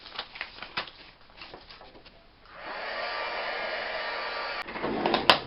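A handheld hair dryer or heat tool drying a junk journal page starts up partway through after some soft tapping and handling noises, then runs with a steady whoosh that briefly rises near the end.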